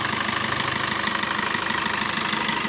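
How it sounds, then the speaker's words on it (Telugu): Steady, even idle of a 2017 Maruti Brezza engine heard up close, a smooth continuous hum with a faint regular pulse and no voices. "ఇంజన్ ఎంత స్మూత్గా ఉందో."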